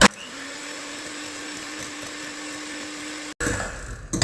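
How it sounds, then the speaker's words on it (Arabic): An electric hand mixer beats eggs for a tender cake batter, a steady high whirring drone close by that cuts out briefly near the end before starting again. "دونك هذا الطورنو نخدمه بالباتور باش يخرج لي طري"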